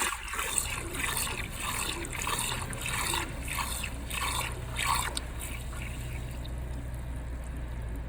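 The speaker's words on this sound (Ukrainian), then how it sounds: "Заливаємо воду." Water, with salt dissolving in it, is poured into a container for pigeons, giving a steady, close trickling and splashing that continues throughout.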